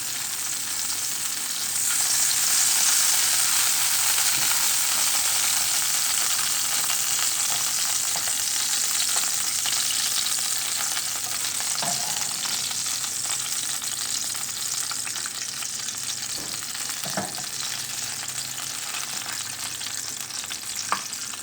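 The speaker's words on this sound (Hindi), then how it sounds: "अब हम एक फ्राई पैन लेंगे, उसमें देसी घी डालेंगे 2 चम्मच" Desi ghee heats in a frying pan with a steady, close hiss and sizzle that stays strong throughout, with a few small clicks and pops.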